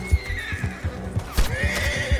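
A horse in Red Dead Redemption 2 gives a loud, drawn-out whinny over a steady clip-clop of hooves, the hoofbeats thudding rhythmically beneath the call.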